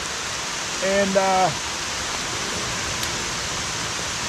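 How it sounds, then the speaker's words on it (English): Heavy rain hisses steadily across a lake during a fishing outing, a dense broadband wash that runs throughout, with a brief spoken word near the start. "The rain's coming down pretty hard now."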